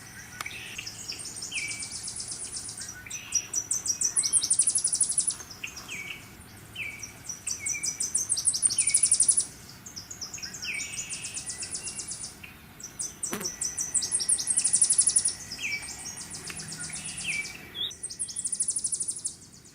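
A Tennessee warbler singing its three-part staccato trill near an apple orchard, several bright, rapid phrases repeated in bursts of a few seconds with short pauses between, fairly close and clear.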